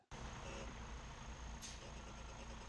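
A truck with a trailer backs up straight, its engine giving a steady, close, continuous rumble that does not let up.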